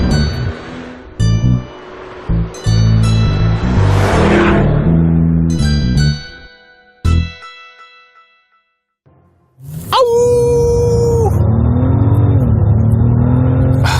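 A luxury car's engine roars loudly through hard acceleration in surging bursts, drops nearly to silence, then swells again into a strong, rising pull.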